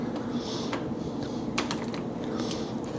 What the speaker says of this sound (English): Just take a piece of tape, painter's tape.